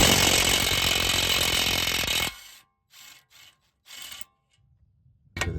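An impact tool spins off the brake caliper bracket bolts on a 2020 Nissan Rogue Sport, one loud sustained whirring burst followed by short bolt-rattling bursts and quiet gaps, with a final burst at the end.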